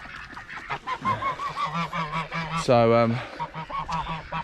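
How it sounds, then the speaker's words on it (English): Geese on a farm honk repeatedly in a noisy, overlapping chorus close by, one louder drawn-out honk standing out, with a brief spoken word mixed in. "we've got some geese"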